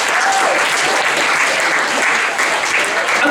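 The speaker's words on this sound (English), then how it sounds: "We have a round of applause for our bosun, David." A comedy club audience applauds loudly and steadily, with dense clapping filling the room throughout and a faint crowd murmur underneath.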